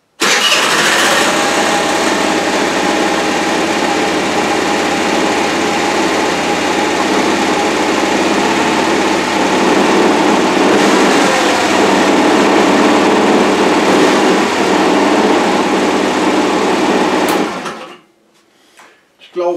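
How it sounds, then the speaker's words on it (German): A motor scooter engine catches and runs steadily at a loud, buzzing idle for about seventeen seconds before cutting off, leaving near silence. "Mal gucken, wie jetzt dieser Roller wieder anspringt."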